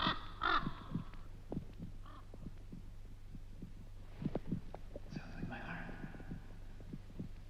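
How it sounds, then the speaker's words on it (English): A slow, soft heartbeat throbs steadily beneath a low hum, while crow caws sound near the start and a faint wailing rises later. "My heart is beating again."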